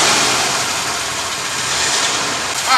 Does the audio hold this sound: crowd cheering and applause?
no